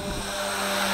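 A WLToys V383 quadcopter drone flies nearby, giving a loud, steady, high-pitched propeller buzz with a sustained tonal whine across the whole brief moment.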